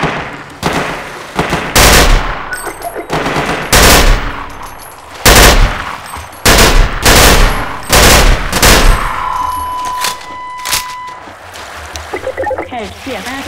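A submachine gun fires in the Half-Life 2 shooter, with loud, close bursts of rapid shots repeating every second or so between brief pauses, and a voice heard faintly along with them.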